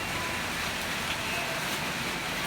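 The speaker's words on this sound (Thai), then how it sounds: "แต่ว่าฝนตกนี่ครับ" Steady rain pouring down, an even hiss of drops on surfaces with no pauses, moderately loud and close.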